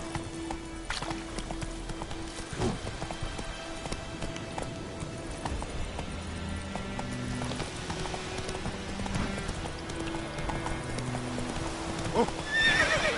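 Roach the horse gallops in Witcher 3, with continuous rhythmic clip-clop hoofbeats running throughout, occasional neighs, and game music playing underneath.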